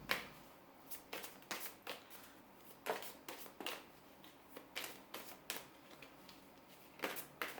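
Tarot cards are shuffled and drawn in quiet, close riffles, a series of soft crisp bursts at an irregular rhythm with no talking.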